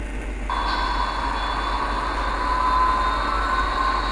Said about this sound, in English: now I have the Amtrak locomotive running behind the New Jersey Transit F40PH